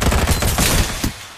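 Rapid gunfire bursts from the shooter game Farlight 84, a dense, loud volley of shots in quick succession that tails off abruptly near the end.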